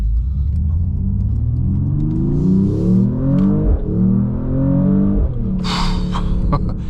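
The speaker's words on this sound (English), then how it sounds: "Do a quick little acceleration over here before we head out onto the highway." A 2026 Mercedes-AMG E53 Hybrid wagon (604 hp) with its dynamic sound feature on rises steadily in pitch as it accelerates hard, with two quick gear shifts breaking the climb, heard loud from inside the cabin.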